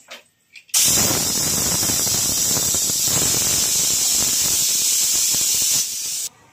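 A pressure cooker whistle blasts as a loud, steady hissing shriek lasting several seconds before cutting off.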